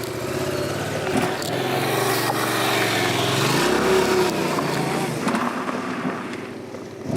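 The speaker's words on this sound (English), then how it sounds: "what I'm going to show is just a little riding in the gravel" A Yamaha FZ-07 motorcycle ridden slowly on gravel, with a loud, steady engine drone that rises and falls as the throttle changes, plus rough crunching from the tires, close up and without talk.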